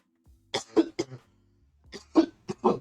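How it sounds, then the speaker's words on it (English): Two close bursts of harsh, hacking coughs, several in each fit, with a short quiet pause between them. "Again, sorry about all this coughing."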